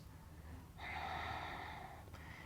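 Deep breath drawn through the nose during a spiral mobility exercise, heard as a single close, quiet inhale of about a second and a half, followed by a short sniff.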